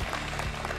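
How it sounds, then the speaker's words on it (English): An entrepreneurship competition audience applauds in a short, full burst of clapping from many hands. "Give him a round of applause."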